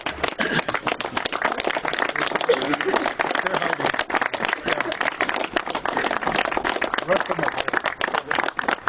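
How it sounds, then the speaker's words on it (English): Audience applause at the opening of the Brattleboro wastewater treatment plant, a continuous crackle of many clapping hands lasting the full nine seconds, fairly loud and even, with voices mixed in. "I'd like you to receive your round of applause."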